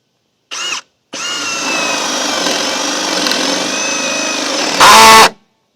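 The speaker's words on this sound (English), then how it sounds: "We're going to drill a hole right here for the sillcock." A power drill fitted with a spade bit bores a hole for a garden sillcock, a short burst followed by a long steady whining run and a louder high-pitched finish as the bit breaks through, close to the microphone.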